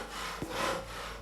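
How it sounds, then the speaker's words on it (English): A hand saw rasps through the tough rind of a giant pumpkin: a short, steady scraping stroke lasting about a second, moderately quiet and heard on its own. "Then he fetched his saw and cut open the first."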